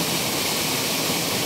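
Water rushes steadily and loudly, a dense continuous flow with no pauses.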